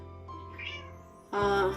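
A pet cat meows in a home kitchen while prawns are being prepared for a salad, first a softer drawn-out call over a low steady hum, then a louder, sharper meow close to the microphone.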